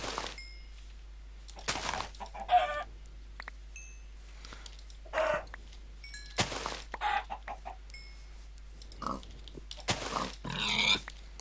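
Minecraft modpack farm animals sound off in scattered bursts: chickens clucking and a pig grunting and oinking, each call brief and separated by quiet gaps, moderately close, with no speech.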